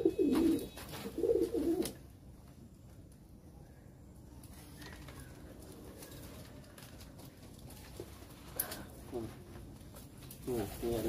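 Racing pigeons coo in short bursts near the start and end, with a faint wing flutter and a few soft calls in between over low background noise.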